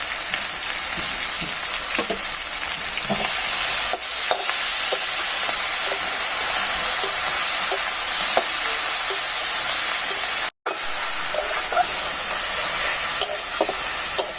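Greens with green chilli, salt and turmeric fry in oil, a loud continuous crackling sizzle with intermittent scraping stirs and clanks from the spatula, close up and without speech.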